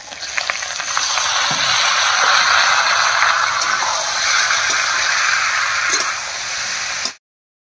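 Whole cumin seeds, bay leaves, split green chilies and cubed ash gourd sizzle loudly and steadily in hot oil, a close, continuous hiss with occasional stirring clicks. It stops abruptly at the end.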